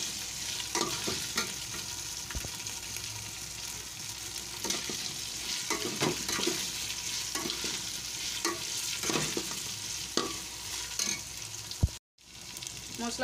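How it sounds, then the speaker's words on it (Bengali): Masala with green chilies sizzles steadily in a pan for chicken pulao while a spoon scrapes and stirs in repeated strokes, close and moderately loud, with no talk. "মশলাটা আমার ভাজা হয়ে গেছে।"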